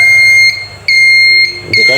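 Super Scanner handheld metal detector in audio mode emitting loud, steady electronic beep tones that cut off and restart about three times, close up with no talking.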